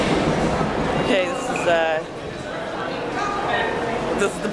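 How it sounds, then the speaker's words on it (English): A New York A train subway car rolls along with a continuous rumble, clattering wheels and occasional metallic squeals, heard from inside over the steady roar. "We're gonna take the A train"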